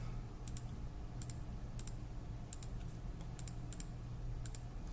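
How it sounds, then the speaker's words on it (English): Numbers being keyed in on a computer keyboard for a precalculus calculation, light quick clicking keystrokes in small clusters over a steady low hum, close and quiet with no speech. "So let's type that in."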